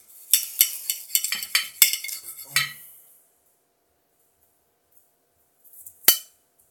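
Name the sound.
butter knife cutting an Asian pear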